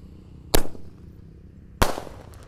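Two sharp, loud blasts from a mercon bazooka roman candle firecracker launching outdoors, spaced about a second apart, each with a short crackling tail.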